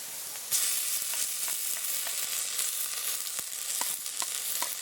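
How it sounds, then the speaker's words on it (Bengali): Ground garlic paste sizzles in hot oil with onions and green chillies for a duck curry, a steady close hiss broken by light stirring scrapes. "রসুনটা খুব ভালো করে তেলে ভেজে নেব, যাতে কাঁচা রসুনের গন্ধ না করে।"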